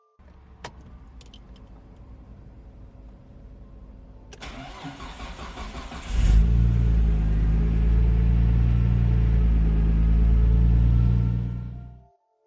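A Nissan RB26 engine cranks and catches after faint key jangling, then idles loud and steady with a deep rumble for several seconds before cutting off abruptly.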